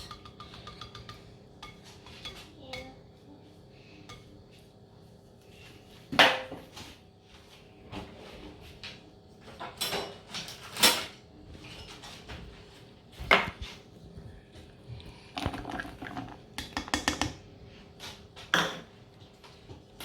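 Chocolate pieces drop into brownie batter in a kitchen, making scattered clicks and clinks against a bowl, with sharper clatters spaced irregularly over a quiet background.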